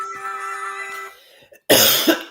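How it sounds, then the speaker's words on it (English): A single harsh cough bursts out loud after a steady droning tone and a brief pause, rough and broadband with a second smaller push near the end. "that's a bad cough"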